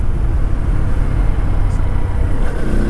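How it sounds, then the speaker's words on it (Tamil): A car's engine rumbles loud and close, a steady low roar of a vehicle approaching on a mountain road toward Kodaikanal, Tamil Nadu, with no speech over it. "என்னங்க கார் வருது."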